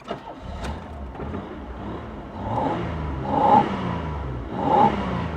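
An Oldsmobile Cutlass Supreme with its check engine light on revs up in a few rising swells. The engine is close and fairly loud, and no one talks over it.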